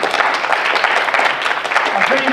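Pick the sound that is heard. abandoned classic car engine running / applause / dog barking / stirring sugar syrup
applause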